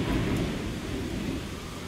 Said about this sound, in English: Maybe I shouldn't be out in a storm.